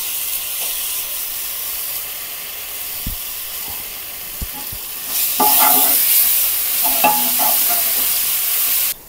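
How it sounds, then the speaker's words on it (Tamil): Two tablespoons of ginger garlic paste hit hot oil with onions, a few spoon taps on the pan before a loud, steady sizzle and hiss takes over as the mixture is stirred close by. "இந்த 2 டேபிள் ஸ்பூன் அளவுக்கு இஞ்சி பூண்டு பேஸ்ட் எடுத்து வச்சுருக்கிறேன், அதை சேர்த்துக்க போகிறேன்"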